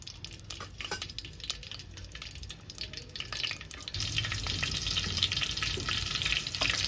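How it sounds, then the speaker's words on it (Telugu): Green chillies frying in hot oil, a crackling sizzle that swells louder partway through, close up, with light spatters and no talking. "ఇప్పుడు ఆయిల్ వేడైన తర్వాత పచ్చిమిర్చి వేసుకుందాం"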